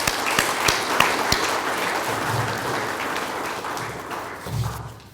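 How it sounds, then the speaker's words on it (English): A room full of audience members bursts into sustained applause at a Fiji Airways announcement event, greeting two newly appointed directors. The clapping is dense and steady for about five seconds, with a few sharper nearby claps and some low thuds. "So I'm sure that you will join me in giving them a round of applause on their appointment."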